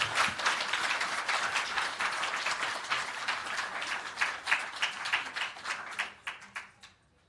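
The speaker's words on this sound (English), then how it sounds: "give Natalia a very big round of applause" A crowd applauds steadily with dense clapping that stays loud, then thins out and fades to a few scattered claps at the end.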